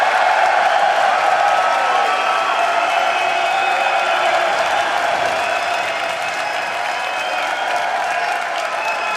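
Sustained, dense applause from a large live audience at a League of Legends esports arena after an LCS EU match between Alliance and Copenhagen Wolves, loud and continuous for the whole stretch with crowd murmur beneath.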